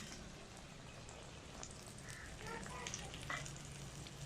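Aloo paratha fries in ghee on a hot griddle, giving a steady, close sizzle with faint scraping and clinks from a spoon moving it around.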